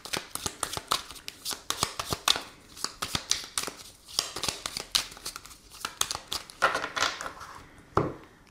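A deck of tarot or oracle cards is shuffled and cut by hand during a reading, giving rapid papery riffles and flicks in uneven bursts, close and fairly quiet, with no speech.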